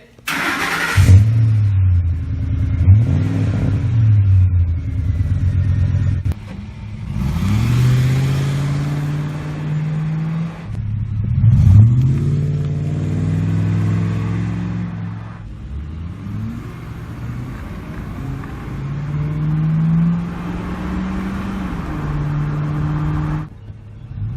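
Ford F-150 pickup truck (2004-2010) with a Magnaflow cat-back performance exhaust revving repeatedly, deep rumbling blips rising and falling, then settling into a throaty idle, loud and close.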